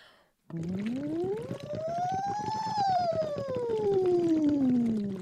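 A single voiced siren glides up from low to high and slowly back down, buzzy and continuous, with a reedy straw-like tone throughout.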